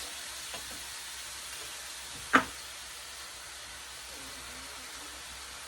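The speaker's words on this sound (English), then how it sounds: "start adding some seasonings to our ground beef while it's still cooking" Ground beef sizzling in a pan while cooking, a faint steady frying hiss throughout, with one sharp knock of a utensil against the pan partway through.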